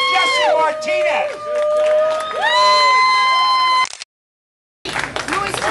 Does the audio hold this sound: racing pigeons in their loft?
no